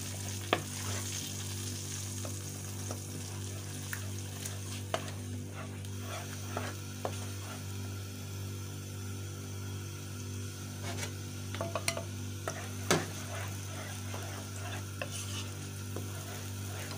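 Two large chopped onions fry in a pan, giving a steady crackling sizzle with a low hum underneath and scattered scrapes and clacks as they are stirred. No one speaks.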